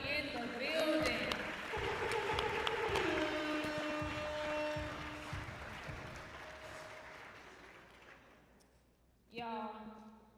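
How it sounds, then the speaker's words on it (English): An audience claps in a round of applause for everyone in the building at a high school players' event, dense and fairly distant, fading out gradually before a voice resumes speaking at the end. "Can I get a round of applause for all of y'all"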